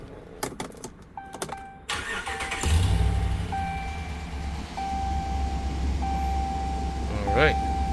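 A 2019 RAM 1500 Hemi 4x4 pickup cranks and fires up, settling into a loud, steady idle close by, with a person speaking briefly before it starts.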